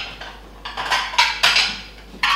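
Plates and cutlery clinking while food is plated up in a kitchen, a series of close, sharp ceramic and metal knocks and scrapes at an uneven pace, with no talking.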